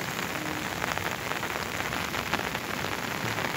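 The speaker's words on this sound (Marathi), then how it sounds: "भरपूर पाऊस चालू आहे" Heavy rain pours steadily beside the flooded Ulhas river, a dense, close hiss of drops drumming on surfaces that holds an even loudness throughout with no voices.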